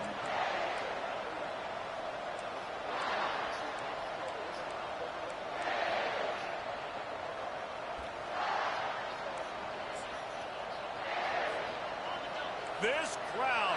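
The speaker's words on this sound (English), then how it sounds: "This crowd, full throat, splitting the eardrums" A large stadium crowd at a college football game roars continuously, swelling in waves of cheering, with a commentator's voice over the noise.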